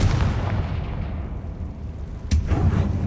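A Confringo fire spell explodes in Hogwarts Legacy with a sudden loud burst partway through. A deep booming rumble that fills the space before it swells again afterward.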